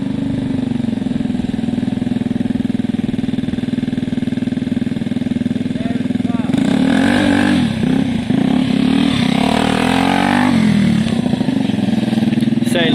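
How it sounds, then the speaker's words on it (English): A Gilera DNA scooter with new fuel lines and rejetted carb runs steadily nearby on a first short test ride, a constant motor drone that swells as it pulls away midway, with people talking over it. "Charlie testing the bike. Seems to work okay."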